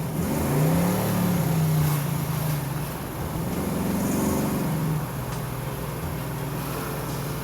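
A 1970 Ford Mustang with a 428ci engine pulls forward under throttle, its engine note rising and falling twice as it accelerates over steady road noise, heard from inside the cabin.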